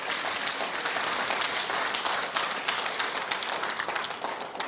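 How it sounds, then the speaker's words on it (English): Conference audience applauding a paper presenter at a session on ombudsmen and corruption; steady, dense clapping from many hands fills the whole stretch at an even level, with no voices over it. "she demands another round of applause"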